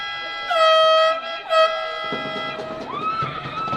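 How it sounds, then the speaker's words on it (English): Loud, sustained air horns blare in overlapping tones at a youth football championship game, their pitch shifting partway through, with crowd noise rising underneath. "As the air horns wail"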